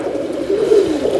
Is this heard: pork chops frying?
no